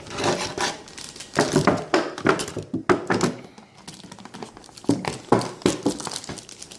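Plastic blister packaging being pried and torn open during an unboxing, a steady run of close crinkling, snapping and thunking handling noises with brief pauses.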